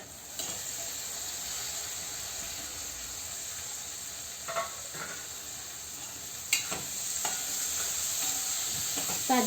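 Finely chopped fresh green cowpeas and their pods being sautéed in a pan with tomato, a soft steady sizzle broken by occasional scraping stirs and clinks of the spoon, nobody speaking.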